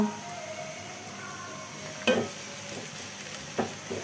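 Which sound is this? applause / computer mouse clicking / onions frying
onions frying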